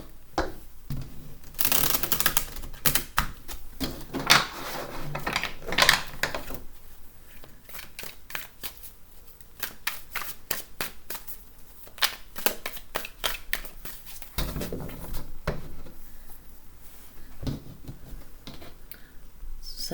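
Tarot cards riffle and shuffle up close, crisp rapid fluttering bursts repeating with short pauses between them.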